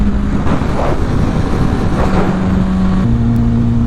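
A 1000cc motorcycle engine holds a loud, steady roar through a wheelie attempt, with its pitch shifting partway as the revs change.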